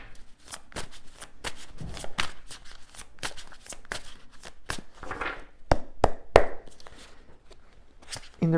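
Tarot cards shuffled by hand close up, a quick run of crisp riffling flicks and taps repeating at an even pace, louder in a few bursts near the end.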